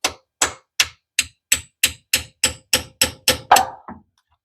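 A hammer strikes a punch against the rear rope seal of a Plymouth Roadrunner engine, about a dozen sharp metallic taps in an even, steadily repeated rhythm, close and clear in a quiet space.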